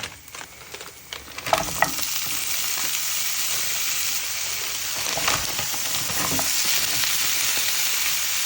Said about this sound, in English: just as the prawns are frying away